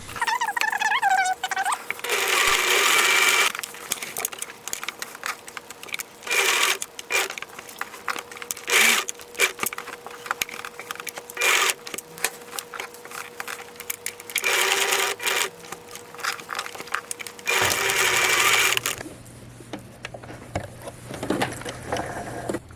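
A sewing machine stitches a fabric patch over a hole in a piece of clothing, running in loud, fast, steady bursts up close, with short pauses between runs and a softer whir near the end.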